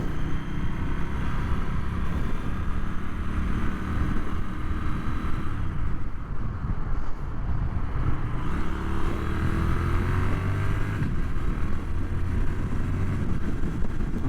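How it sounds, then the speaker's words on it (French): A 2025 Triumph Speed Twin 1200 RS motorcycle in sport mode is ridden hard with quickshifter gear changes at high revs, giving a continuous loud engine drone with shifting pitch and wind roar throughout. "Là, je vais essayer les passages de rapport à plus haut régime avec le shifter"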